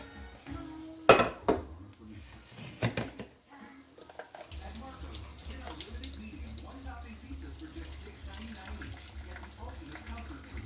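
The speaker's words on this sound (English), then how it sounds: "then I'm going to drain all the excess water out in the sink" Water runs steadily into a sink after a few clanks of dishes and utensils as excess water is drained for red salsa, a continuous rushing drain sound that fills the rest of the clip.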